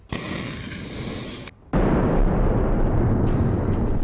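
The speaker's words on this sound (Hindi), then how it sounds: "और फिर क्या हुआ, एक बड़ा धमाका।" A missile explosion from the Russia-Ukraine war, near the Polish border, bursts in abruptly after a brief lull as a loud, sustained rumbling roar.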